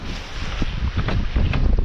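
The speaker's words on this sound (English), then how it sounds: "oh, it's windy today" Wind buffets the microphone in a steady, rumbling gusty roar, loud and close, with no voices.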